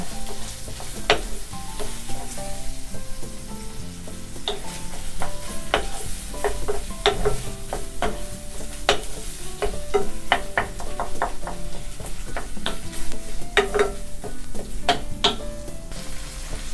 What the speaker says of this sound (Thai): ยีให้เป็นชิ้นเล็กๆก่อน แล้วก็ผัดรวมกันนะคะ